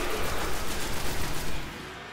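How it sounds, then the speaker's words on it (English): Dense gunfire from the video game Destiny, a steady wash of rapid shots in a firefight that crackles continuously for about two seconds, loud and close, with no talk over it. "Someone's shooting me now."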